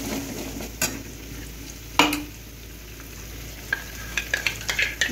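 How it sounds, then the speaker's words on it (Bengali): Chhana kofta balls frying in hot oil, a steady low sizzle with soft stirring and a few sharp clinks of utensils against the pan, close and with no talk. "আর এদিক দিয়ে কোপ্তাগুলি ভেজে নিচ্ছি লাল লাল করে।"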